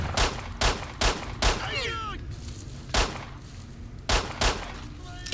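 Gunshots ring out in the video game S.T.A.L.K.E.R.: Shadow of Chernobyl, a run of loud, evenly spaced single shots with a brief whistling ricochet-like sweep between them.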